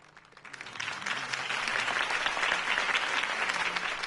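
A crowd in Batman: The Telltale Series applauds Harvey Dent's campaign speech. Dense, sustained clapping swells in quickly after a quiet start and holds steady and loud.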